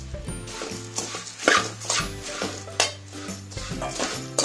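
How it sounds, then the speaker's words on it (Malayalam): Spoon scraping and clinking against a pan as puffed rice is tossed and mixed with garlic, a steady run of close, rattling stirring strokes with a low background hum. "ഈ മൂന്ന് കപ്പ് പൊരി ഇതിലിട്ടിട്ട് നല്ലോണം മിക്സ് ചെയ്യാം."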